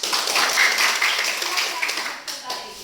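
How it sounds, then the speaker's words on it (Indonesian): Clapping from children in a classroom, a dense patter of many hands at steady loudness that thins slightly toward the end, with voices mixed in. "terima kasih, tepuk tangan"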